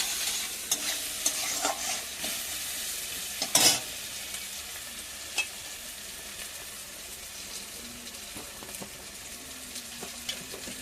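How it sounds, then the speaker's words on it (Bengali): Spices with turmeric powder and salt fry in a pan while being stirred, a steady close sizzle with intermittent scraping and knocking of the spoon, one louder clatter early on. "তো হলুদের গুঁড়ো, লবণ দিয়ে কষিয়ে নেব।"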